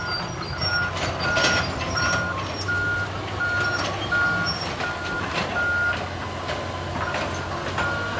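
Heavy construction machine repeatedly sounds its high reversing beeper, evenly spaced beeps over a low engine rumble outdoors, fairly close, with no talking.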